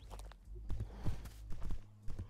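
Horse hooves clip-clop at a walking pace in Animal Shelter Simulator's horse add-on. A string of soft, uneven steps sits close by, with faint voice sounds in the background.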